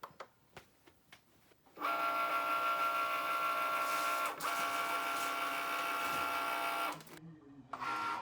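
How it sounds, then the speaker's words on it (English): A Cricut cutting machine runs with a steady mechanical whir and motor hum for about five seconds, preceded by a few clicks and button taps, with a short pause and a restart near the end. "While the machine cuts that one"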